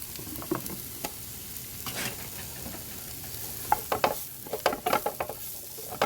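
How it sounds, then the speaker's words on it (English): Mushrooms going into a pan for a mushroom gravy, sizzling and crackling steadily with scattered pops and a few stirring scrapes that cluster toward the end, close and moderately loud. "we're going to go in with our mushrooms"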